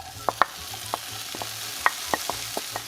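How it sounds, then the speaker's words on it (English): Tomato, onions and garlic fry in melted butter and oil with a steady low sizzle, broken by sharp scrapes and taps as a utensil stirs the pan. "Once you combine all your ingredients into that butter and oil, we're gonna continue to cook for another 4 minutes"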